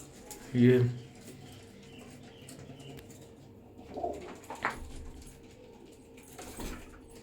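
Pigeons of the MeraDona breed coo in low, throaty bursts, one louder call near the start and softer ones later, while someone talks over them at close range.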